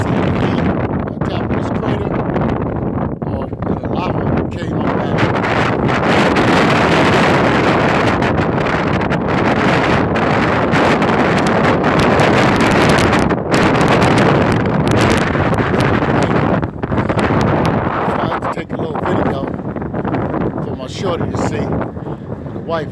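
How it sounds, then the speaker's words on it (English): Strong wind roars across the top of a lava flow at Craters of the Moon National Park, buffeting the microphone loudly and continuously for the whole span. "It's windy, it's a little loud"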